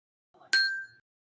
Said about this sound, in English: That was the tone for the middle row.